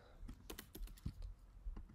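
Quick keystrokes on a computer keyboard, typed to start a WebSocket connection, come as an irregular run of close, crisp clicks of moderate loudness with no voices.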